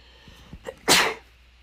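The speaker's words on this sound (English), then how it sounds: "Oh, yeah, sneeze." A single sharp sneeze, preceded by a couple of quick breathy intakes, close and fairly loud.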